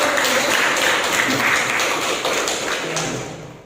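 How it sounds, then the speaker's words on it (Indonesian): Students in a classroom clap together, a dense burst of hand claps with some thumps that stays strong before tapering off at the end. "Boleh tepuk tangan."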